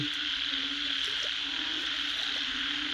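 A dense chorus of frogs croaking steadily after rain around a flooded cattle pen, a continuous layered din with no voices.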